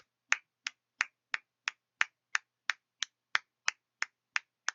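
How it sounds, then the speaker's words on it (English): About fourteen sharp, crisp claps land in an even, steady rhythm, roughly three per second, close and clear against silence. "That was the most satisfying clap I've ever heard."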